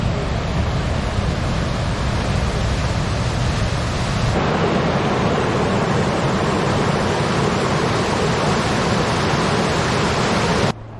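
Turtleback Falls in Sapphire Valley, western North Carolina, pours in a loud, steady, broadband roar of rushing water that stays close and constant throughout, with a slight shift in texture midway and no voices over it.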